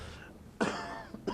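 Coughing during a Spanish-language church sermon: a soft sound opens, then one loud, harsh cough, a short catch and a second cough follow, close and clear in a quiet room.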